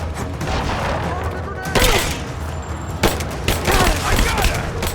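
Gunfire in PlayerUnknown's Battlegrounds, a series of loud sharp shots and bursts in irregular clusters, with speech mixed in.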